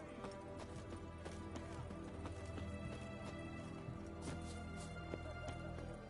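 A white horse's hooves clip-clop in a steady trotting rhythm in the video game Witcher 3, mid-distance under a dense bed of game music and ambience.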